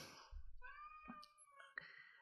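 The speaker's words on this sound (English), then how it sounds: "He may be able to hear my cat in the background." A domestic cat meows a few times in the background, a short wavering call followed by a second rising one, fairly quiet and alone.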